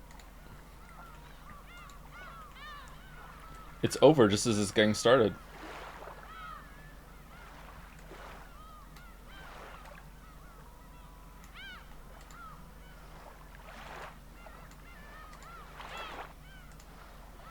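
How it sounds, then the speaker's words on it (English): A brief burst of honking, cawing bird calls from the video game Persona 3 Reload rises loudly for about a second, then cuts off abruptly, with someone talking before and after. "that is a short sound file with the birds"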